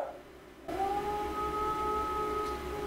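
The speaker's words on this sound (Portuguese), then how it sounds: "O cachorro não para de latir." A dog howls in a long, sustained, wavering tone that starts abruptly and holds steady for a couple of seconds, close by and alone.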